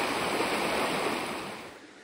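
Brasstown Creek in Warren, North Carolina, flowing near an old mill foundation: a steady, broad rushing wash of water, close and continuous, easing slightly at the end.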